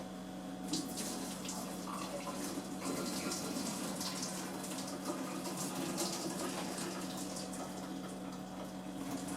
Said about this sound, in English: grab this, and I'll just drain the liquid